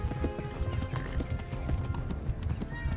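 In the medieval video game Kingdom Come: Deliverance, a horse's hooves clip-clop rapidly at a gallop while the horse neighs, close and busy under a dense layer of game noise.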